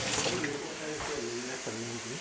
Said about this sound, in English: I'm gonna do a quick rinse here.